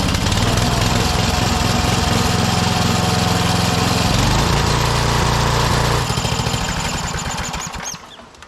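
A 1991 DR field and brush mower's small engine runs loud and steady close by, its throttle dropping partway through before it sputters down and fades near the end.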